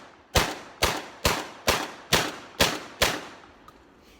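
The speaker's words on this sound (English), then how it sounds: "All 9 shots of low recoil stuff out of the Girsan MC312, no problems." A Girsan MC312 semi-automatic shotgun fires low-recoil shells: seven sharp, loud blasts in quick even succession, about half a second apart, each with a short decaying tail.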